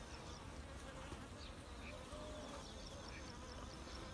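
Honeybees stream in and out of a simple-framed hive entrance, producing a faint, dense, continuous buzzing hum with no break.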